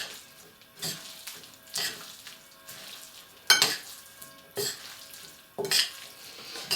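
Avocado crab tartare being stirred together with rocket in a salad bowl, giving soft repeated scraping and clinking strokes at close range with brief louder utensil knocks against the bowl, and no talking.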